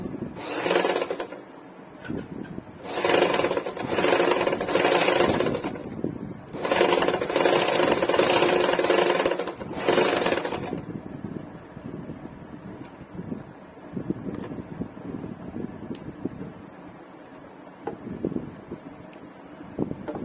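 An electric sewing machine runs a reinforcing second stitch line on a double katori blouse, three loud whirring bursts of several seconds each, followed by quieter fabric handling.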